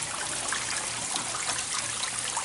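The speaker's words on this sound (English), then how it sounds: "it's fed from two waterfalls up there. And I have these two little waterfalls here at the end of the little river here." Small garden waterfalls spill into a homemade artificial river lined with pond liner, giving a steady, close, continuous splashing trickle with no pauses.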